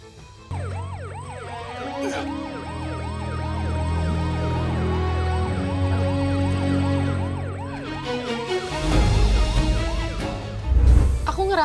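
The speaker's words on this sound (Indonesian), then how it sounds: "Saya minta dikirimkan 1 unit ambulan ya." A loud wailing ambulance siren sweeps rapidly up and down, close by, with a vehicle rumbling past toward the end.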